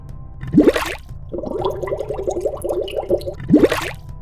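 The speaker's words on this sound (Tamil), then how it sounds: "அது தண்ணிக்குள்ள பானை முங்குற சத்தம்" Water gurgles and glugs in bursts, a pot sinking and filling in a well, with two louder splashing plunges at the start and end.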